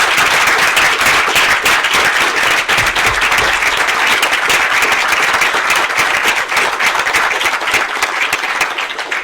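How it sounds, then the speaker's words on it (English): A university audience breaks into loud, dense applause that stays thick and even throughout, many hands clapping at once with no talk over it. "So can we actually give Paula a round of applause,"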